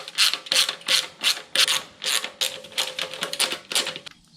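Small taillight nuts being backed off with a size 8 ratchet wrench during a Radiantz taillight install, giving rapid repeated clicking bursts in steady rhythm, close and fairly loud, with no talking.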